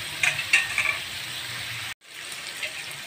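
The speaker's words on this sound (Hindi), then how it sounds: "मैं उस वक्त तक चिकन को फ्राई करूँगी जब तक ये खूब सुर्ख रंग की नहीं हो जाती" Chicken frying in a pan for a Turkish sandwich, with a bright close sizzle and a few crackling spatters early on, then a brief dropout before the frying noise returns at a steady level.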